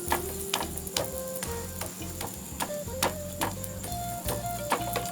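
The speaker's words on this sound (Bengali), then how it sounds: "ভালো করে চেপে চেপে ভাজতে হবে।" Aloo paratha frying in a pan while being pressed down, heard as a steady close sizzle broken by sharp clicking taps and scrapes at an irregular rhythm, with no talking.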